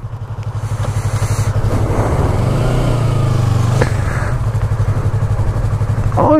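A Yamaha R3 motorcycle revs up from idle and pulls away, its engine drone rising and holding steady under heavy wind rush, loud and close, with a brief throttle change near the end.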